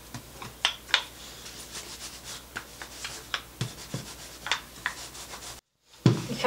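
Yeast dough for Krepli is rolled out on a work surface, producing soft, close, irregular rubbing and thumping strokes with brief pauses, and no talking.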